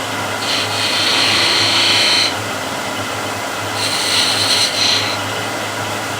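A wood-turning tool cuts a bead into wood spinning on a lathe in two sustained bursts of hissing, scraping noise over a steady motor hum.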